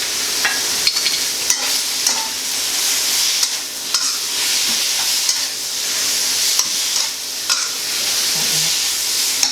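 Pork dry-frying in reused oil in a home kitchen pan for northern Thai larb, a steady close sizzle broken by scraping stirs and light utensil clicks against the pan, with no talking.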